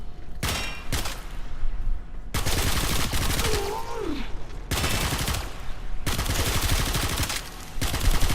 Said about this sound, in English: I wonder if I can kill all these guys with one mag.